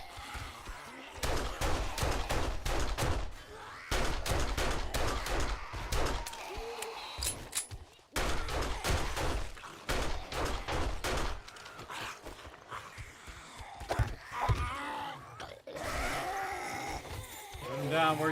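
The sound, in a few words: gunfire in the video game 7 Days to Die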